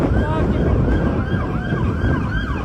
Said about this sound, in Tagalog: Ayan may parating na naman fire truck na isa doon.